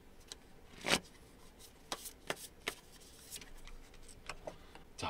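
Tarot cards are shuffled and drawn at a money-fortune reading, with soft, sparse snaps and flicks of the cards scattered across a quiet background and no talk.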